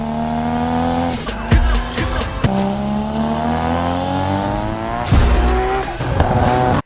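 A Nissan Skyline race car in a Need for Speed Heat trailer revs hard through rising engine pulls, with screeching tire squeals and skids, impacts and gear shifts, loud and close.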